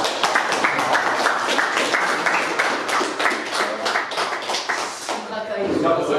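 An audience claps for a basketball player, a dense run of hand claps filling the whole stretch, with a voice joining near the end.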